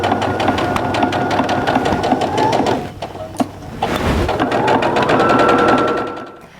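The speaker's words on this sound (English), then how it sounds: "I'm going to sew a 1/4 inch seam down the entire side of this tube." A sewing machine stitches a quarter-inch seam along the side of a fabric tube, its needle running in a loud, steady rapid chatter that dips briefly to a short pause before picking back up and running on.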